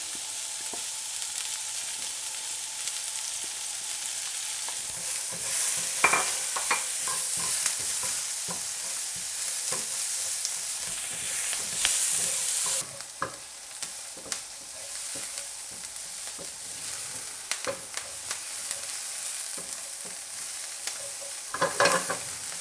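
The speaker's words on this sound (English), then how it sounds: "I'm going to put my onions to cook in that lovely bacon fat." Onions fry in bacon fat in a hot pan, a steady loud sizzle broken by scraping stirs and occasional clicks.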